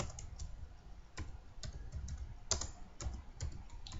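Typing an enrollment number on a computer keyboard, with a steady run of light key clicks and a few sharper taps.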